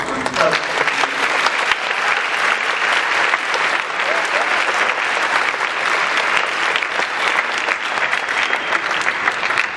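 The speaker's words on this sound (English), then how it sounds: "But I'd like to give those four another round of applause." Sustained, dense applause from an audience at a high school band spring concert, steady and loud throughout with no break.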